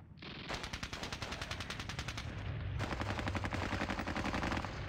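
Sustained automatic gunfire in the WWII wargame Squad Battles Red Victory at Ponyri, rapid bursts of shots rattling continuously and loudly, with a heavier, denser second volley partway through.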